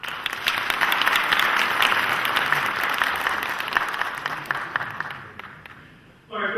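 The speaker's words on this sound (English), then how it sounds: "please give a big round of applause to the chairman of Zaman Group" Sustained audience applause at a Saudi-Pak accountancy symposium for the Zaman Group chairman, steady and fairly loud for about six seconds before fading, then a brief burst of other sound at the end.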